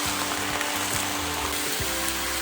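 Chard frying in oil with a splash of white vinegar in a pan, a dense continuous crackling sizzle, close and steady throughout.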